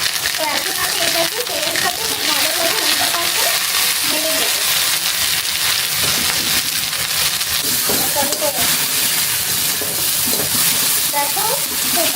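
Oil sizzles and crackles steadily in a pan, a loud continuous hiss with occasional stirring scrapes and a voice talking over it.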